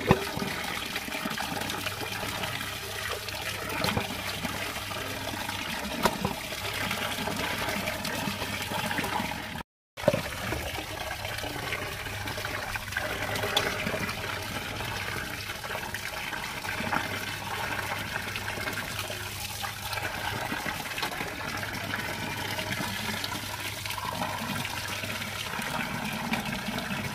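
Fish, pomfret, rinsed in water for a curry, with steady continuous splashing and trickling throughout, close and moderately loud, broken by one brief gap.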